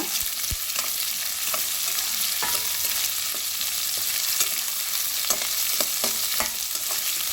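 Onions fry in a little oil with a constant close sizzle. A spatula scrapes and taps the pan now and then, and no one speaks.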